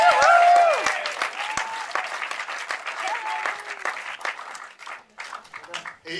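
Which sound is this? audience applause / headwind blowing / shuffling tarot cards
audience applause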